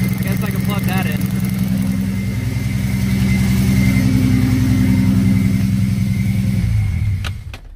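A Turbo V6 Mustang engine runs with a slight misfire, a loud, close, steady idle with a throbbing pulse that cuts off near the end, leaving a brief tail of quieter noise.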